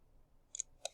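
A mouse clicks the compute button in StatCrunch, producing a couple of faint, sharp clicks in a quiet room near the end.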